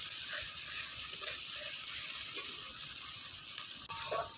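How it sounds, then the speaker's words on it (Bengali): Spice masala with a splash of water and turmeric sautéing in a pan for a Bengali rohu fish curry with potato and cauliflower, giving a steady bright sizzle with faint soft stirring scrapes and no talk. "এবারে মশলাটা ভালোভাবে কষে নেব, যতক্ষণ না মশলা থেকে তেল ছেড়ে দিচ্ছে।"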